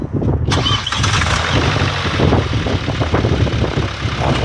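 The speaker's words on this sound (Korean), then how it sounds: "시동 한번 그래 주시면 합니다." A Hyundai i30 diesel engine cranks and starts with a sharp burst, then settles into a steady, rumbling idle nearby.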